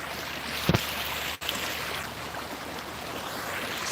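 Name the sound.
water lapping on a nice day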